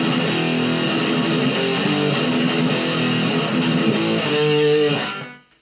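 Distorted electric guitar plays the second half of the bridge of a metal song, a dense, loud, continuous run of chugging notes that swells near the end and then cuts off sharply, with no talking.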